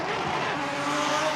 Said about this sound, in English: And we go off the line in the Haskasap.